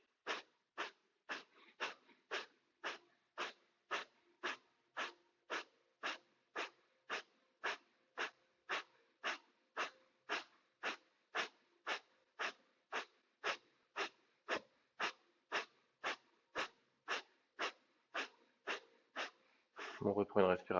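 Kapalabhati yoga breathing: about thirty rapid, forceful nasal exhalations in an even, quick rhythm, each a sharp close puff with near silence between, ending in a fuller breath.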